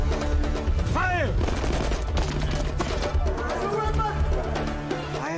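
Gunfire in a South African movie scene, a rapid fusillade of loud close shots and bursts over dramatic music and shouting voices.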